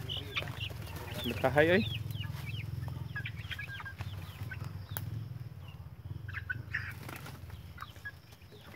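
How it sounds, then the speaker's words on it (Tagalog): Farm chickens newly moved to a new area cluck and call at close range over a steady low hum, with a brief burst of wing flapping early on and a voice speaking briefly. "Dire nato ipakanon atong mga manok"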